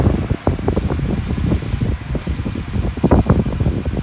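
Loud, steady airflow from a grey Bionaire 16-inch oscillating pedestal fan set on high, heard up close with a constant rushing roar and irregular wind buffeting against the microphone.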